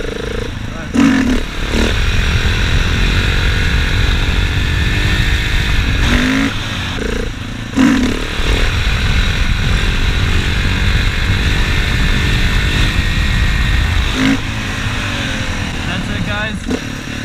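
KTM 690 Supermoto motorcycle engine roaring steadily through a wheelie, loud and continuous with brief dips near the start and middle, heard from the rider's own perspective over wind noise.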